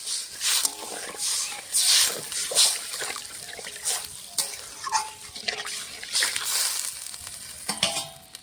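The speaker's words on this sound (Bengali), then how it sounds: "এখন আমি জল দিয়ে দেবো এটুকু জল দেবে" Water splashes and gurgles into a hot pan of fried onions for puti fish curry, hissing in uneven bursts alongside stirring clatter.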